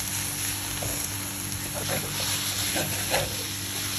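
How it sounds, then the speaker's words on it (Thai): Minced pork is stir-fried in a pan for a northern Thai noodle dish, giving a steady sizzle with a few soft scrapes of stirring against a constant background hum. "ผัดไปเรื่อยๆ ค่ะจนกระทั่งหมูบดเริ่มสุกเริ่มแบบแตกกันแล้วนะคะ"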